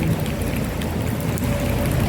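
Heavy rain and gusting wind from a typhoon under signal number 8 in Hong Kong, a dense, constant rushing hiss with no break across the short stretch.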